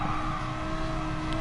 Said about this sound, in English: little rev limiter action